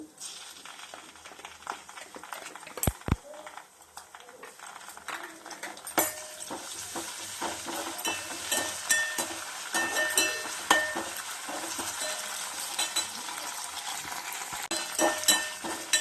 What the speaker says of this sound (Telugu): అల్లం వెల్లుల్లి పేస్ట్ వేగిన తర్వాత ఉడికించి పెట్టుకున్న చికెన్ వేస్తున్నానండి